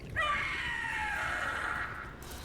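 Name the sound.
Gloomhowler creature screaming in Dragon Age: The Veilguard video game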